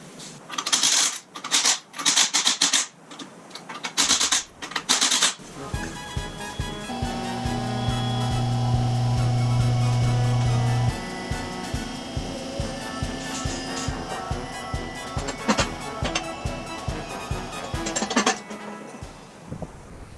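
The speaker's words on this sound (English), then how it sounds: "One of us forgot to loosen the lug nuts before they lifted the car. So let's do that first." Chrome lug nuts on the rear wheel of a 1966 Mustang being loosened with a wrench: a run of sharp metallic clicks and ratcheting taps, then a steady whirring stretch and more irregular clacks, close by with no talk.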